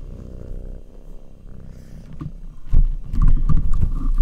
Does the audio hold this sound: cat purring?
yes